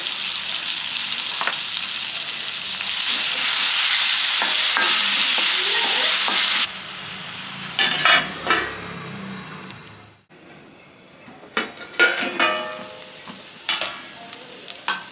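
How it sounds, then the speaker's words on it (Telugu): Mint paste with salt fries in a pan, first a loud bright hiss for several seconds, then quieter sizzling punctuated by scraping stirs and spatula knocks. "పుదీనా పేస్ట్ ఇలా మంచిగా ఫ్రై అయిపోయింది కదా."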